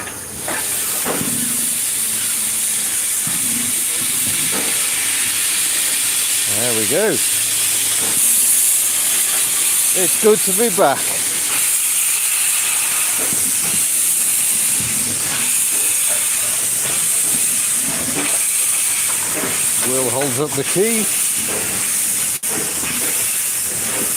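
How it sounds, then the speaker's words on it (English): Loud, continuous steam hiss fills the scene near a steam train in Aberystwyth, with occasional voices talking over it and brief clanks. "as the train chuffs off"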